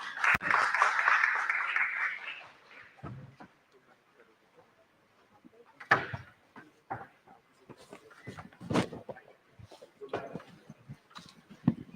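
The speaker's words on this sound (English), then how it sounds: "can we have a round of applause, please?" A conference hall audience applauds for about two seconds, then the clapping gives way to sparse thumps, shuffling and scattered room noise.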